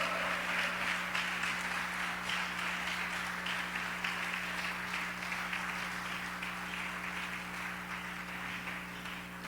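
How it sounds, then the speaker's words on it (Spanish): Church congregation applauding at a worship service, a steady wash of many hands clapping that holds at even loudness for the whole stretch, with a constant low hum underneath and no talk over it. "Den un aplauso fuerte a Dios."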